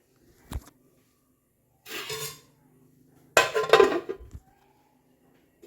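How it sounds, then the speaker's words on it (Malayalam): A lid set down on a cooking pot of simmering food gives a few distinct metallic clinks and clatters, moderately loud and close, with brief quiet gaps between them and no talking. "മൂടി വെച്ചു."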